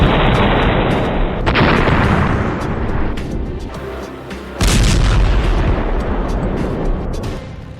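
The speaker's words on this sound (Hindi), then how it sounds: "हमास के लड़ाके इजराइल के उस बुलडोजर को धमाके से उड़ा रहे हैं" Blasts from Hamas fighters destroying an Israeli bulldozer in the Tel al-Hawa area of Gaza: a continuous heavy rumble of booms, with a sharp onset near the middle and sustained roar, loud and dense throughout.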